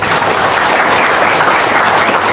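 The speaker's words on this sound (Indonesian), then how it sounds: "Tepuk tangan dong." Audience applause fills an Indonesian religious talk gathering, dense and loud continuous clapping from a crowd throughout.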